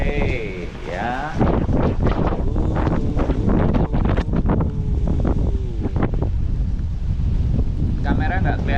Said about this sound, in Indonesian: Kalau muka saya kena angin kayak gini.